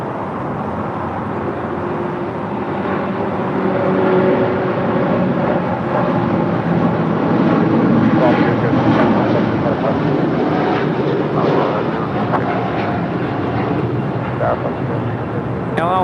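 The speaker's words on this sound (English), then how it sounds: "As we have the Condor A330-200, the blue striped tail coming in from Frankfurt." A Condor Airbus A330-200 arriving from Frankfurt gives off a steady jet roar at moderate distance that swells slightly and then holds.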